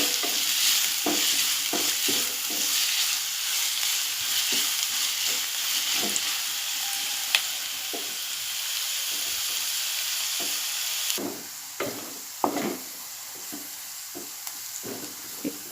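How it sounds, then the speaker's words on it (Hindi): Onions softening in frying oil for bhelbhal usal, a loud steady sizzle with frequent rhythmic stirring knocks, the hiss dropping sharply partway through while scattered stirring taps continue. "अब मैं प्याज थोड़ी तेल में नरम करके लूँगी, ज़्यादा भी सुर्ख नहीं करूँगी"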